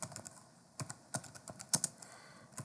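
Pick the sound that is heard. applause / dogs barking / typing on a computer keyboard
typing on a computer keyboard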